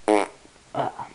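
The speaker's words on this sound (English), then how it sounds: "Don't fart." A loud, buzzy fart from a baby toad in an animated film bursts out first, followed after a short pause by a second, softer, breathier one, with no talking.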